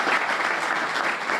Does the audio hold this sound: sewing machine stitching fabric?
no